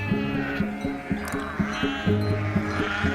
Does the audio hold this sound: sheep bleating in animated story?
yes